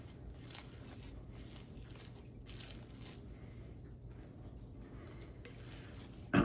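Barley bread dough being mixed by hand on a counter, a steady soft scraping and stirring texture with faint rhythmic swishes, close and continuous, with no talk.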